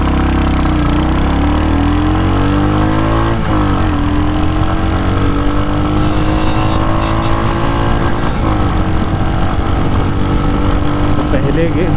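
A Royal Enfield Hunter 350 motorcycle engine pulls steadily and loudly through rising revs, with a dip at each gear change, heard close up during a ride with someone talking over it.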